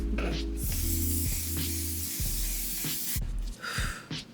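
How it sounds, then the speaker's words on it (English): A long, steady hiss of an aerosol mattifying makeup setting spray lasts about three seconds, followed by a couple of short spritzes, close to the microphone. "the One Size Until Dawn mattifying spray, an aerosol type of setting spray"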